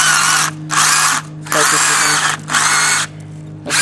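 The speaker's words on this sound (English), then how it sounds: "Where we are drilling out the cores" Power drill boring into the laminated cores of a transformer for a homemade welder, running in four close, loud bursts of whining grind with short pauses between.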